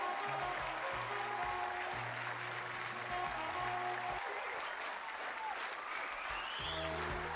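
An audience applauds continuously at a church gathering, the sustained clapping loud and steady throughout, with a bass-heavy music backing running underneath.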